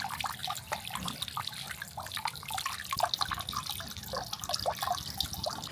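Hot spring water flows and trickles steadily at close range, a continuous watery splashing with small drips on top and no talk over it, at a snow-monkey hot spring.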